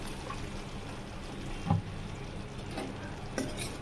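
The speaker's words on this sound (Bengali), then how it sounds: "এইবারে এখানে এই স্টেপে একদম অল্প করে একটু জল দিয়ে এটাকে হালকা সিমে একটু বসাবো।" A small splash of water hits chicken kosha frying in a pan, with a steady low sizzle and two brief louder stirring or pouring knocks against the pan, and no talking.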